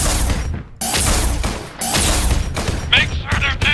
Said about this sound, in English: Firing another volley.